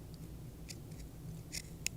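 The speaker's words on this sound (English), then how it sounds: "So cut in between the teeth." Scissors cut through a separating zipper between its teeth, a few faint, sharp snips spaced apart over quiet room hum.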